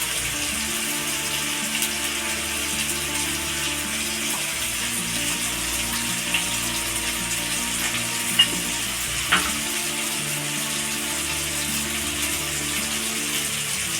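Ginger and garlic paste frying in a pan while being stirred, a steady loud sizzle running throughout with a couple of brief scraping knocks from the spoon.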